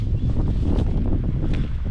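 Strong wind buffeting the microphone on a green Alaska backpacking trail, a steady loud roar with gusty low rumble throughout, no talking.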